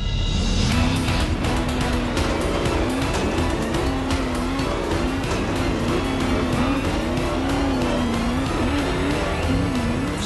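A Formula Off-Road buggy, an open-wheel off-road racer with F1-level power, revs hard as it climbs a hill. The engine roars loud and close with steady high revs and shifting pitch, continuous throughout with no talk.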